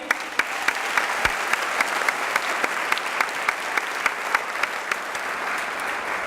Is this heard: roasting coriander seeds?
no